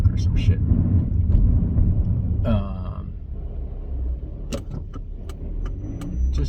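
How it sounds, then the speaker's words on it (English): Car engine droning steadily from inside a moving car, a loud low rumble that runs throughout, with someone talking over it and a few light clicks and rattles. "the engine is kind of loud on this car right now"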